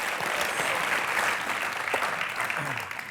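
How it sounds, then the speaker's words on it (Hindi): Studio audience on a comedy talk show claps loudly for Ileana and Shahid, a dense, steady wash of applause that tapers slightly near the end, with some voices mixed in. "चलिए जोरदार तालियां इलियाना और शाहिद के लिए प्लीज।"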